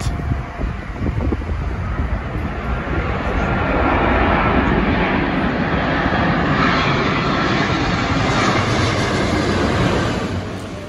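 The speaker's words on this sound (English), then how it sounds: "Got a plane coming in hot" A fixed-wing airplane passes low overhead near a rental car lot, a loud, continuous roaring engine drone that swells to a peak midway and stays strong before easing slightly, with no talking.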